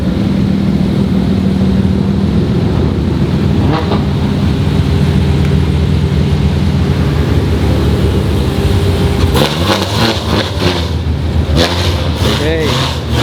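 A Ferrari GTO-style sports car engine idles and revs up close at a supercar convoy event in Dubai, steady rumble with sharp revving bursts near the end, under loud excited chatter.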